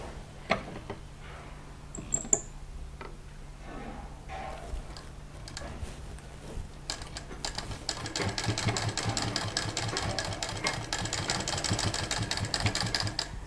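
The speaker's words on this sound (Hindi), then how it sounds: "अब इसको हम इसी सिलाई पर पहले ऊपर से मशीन चलाते हुए इसको बीचों बीच में जोड़ देंगे।" Sewing machine stitching patchwork fabric pieces together for a mat, starting with a few faint clicks and handling noises, then running steadily in a fast, even mechanical whir through the second half.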